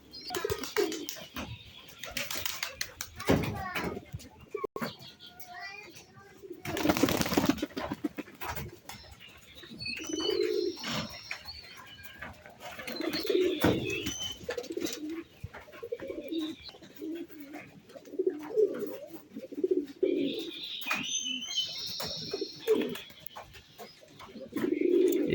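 Pigeons coo repeatedly in low, throaty bursts, some close and some farther off, with occasional wing flaps and rustling, and no talk.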